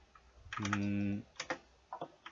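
Single key presses on a computer keyboard while drawing in CAD software give a few close, quiet clicks, spaced apart, with a brief tonal hum in the middle.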